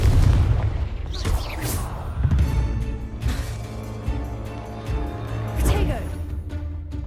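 Confringo fire spell explosions in Hogwarts Legacy, several heavy booming blasts with crackling bursts at uneven intervals, loud and close, with game voices speaking between them.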